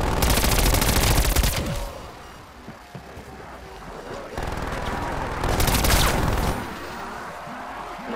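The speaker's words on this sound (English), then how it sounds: "Oh, there's a machine gun." Bursts of rapid machine gun fire in Call of Duty Cold War Zombies, two loud sustained volleys separated by a quieter stretch of ambient game noise.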